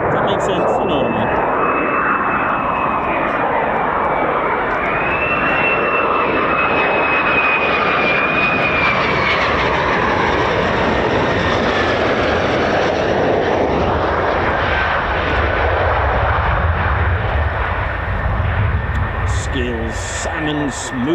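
An F-15 or F-35 fighter jet lands at RAF Lakenheath, its engine a loud continuous roar with a whining tone that gradually shifts pitch across the whole stretch, while people talk beneath it.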